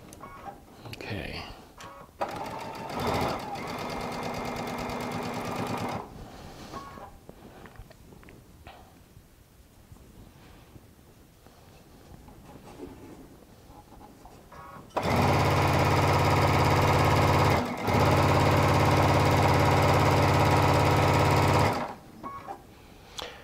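A sewing machine stitches quilt fabric pieces, Tula Pink charm squares and strips, in two loud, steady runs of rapid needle chatter separated by a quieter stretch of handling and someone talking.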